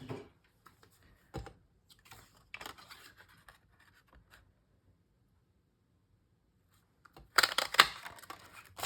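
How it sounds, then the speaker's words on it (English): A label punch clamps down on white cardstock at a papercraft desk, giving a sharp crunching snap near the end, preceded by scattered soft handling clicks and rustles. "And I'm going to use my label punch."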